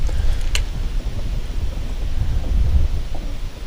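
Steady wind buffeting a microphone on a bass fishing boat at Odessa Reservoir, a continuous low rumble with gusty swells and occasional faint knocks, no voices.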